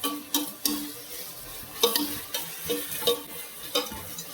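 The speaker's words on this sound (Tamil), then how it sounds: "பொன்னிறம் வரும் வரைக்கும் வெங்காயத்தை வதக்கணும்." Onions sautéing in a pan for chicken leg piece biryani, with a steady sizzle and spoon strokes scraping through them at an irregular rhythm, close and moderately loud.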